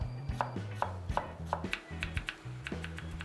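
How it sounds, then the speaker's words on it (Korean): A knife chops watermelon rind into thin julienne strips on a cutting board, a steady run of crisp, close knocks at an even pace with no talking. "반을 갈라서 초무침 채를 썰어 보겠습니다"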